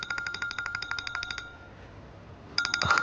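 A mobile phone ringtone chimes in a quick repeating electronic pattern for over a second, pauses, then starts again, moderately loud in a quiet room.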